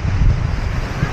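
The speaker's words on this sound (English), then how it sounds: "Look at those waves." Ocean waves surge and crash against rocks at Patar, Bolinao, a loud, rumbling wash mixed with heavy wind buffeting the microphone.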